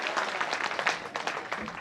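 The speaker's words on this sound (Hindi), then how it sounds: "एक बार पूरा सदन जोरदार तालियों से स्वागत करें" An audience in a hall applauding after a poem recital, a short burst of brisk, dense clapping at moderate volume.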